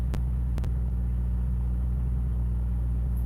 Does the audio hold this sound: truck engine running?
yes